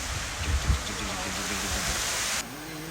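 Pinsal Falls in Ilocos Sur pours as a steady broadband roar of falling water, loud and continuous, with some low thumps from handling or wind near the start before the rush briefly thins near the end.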